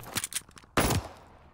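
Gunfire in the shooter game Call of Duty Vanguard: a rapid rattle of shots early on, then one loud, close blast that rings out and fades over the last second, with no talking.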